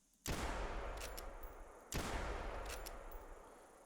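Two loud .405 rifle shots in theHunter Classic, each a sharp crack with a long rolling echo that fades out, spaced about a second and a half apart with no talking.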